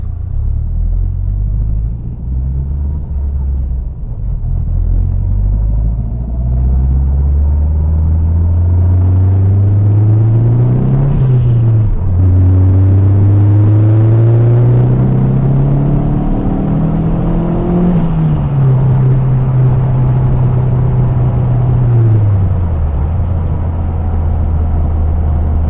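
Saab car engine, boosted toward 500 hp, droning loud and close while driving on an evening road in Sweden, its pitch rising and falling through gear changes and revs.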